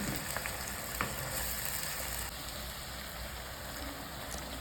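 Blended onion paste sizzles in hot mustard oil, a steady close hiss of frying with a few faint stirring clicks and no talk.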